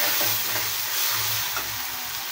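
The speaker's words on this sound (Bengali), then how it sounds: "এখন হলুদের গুঁড়া, সামান্য পরিমাণ জিরার গুঁড়া ও একটু মরিচের গুঁড়া দিয়ে ভালোভাবে মশলাটা কষিয়ে নেব" Ginger paste and stone-ground spice paste fry in a pan for a duck curry, giving a close, steady sizzling hiss with faint stirring scrapes and no voices.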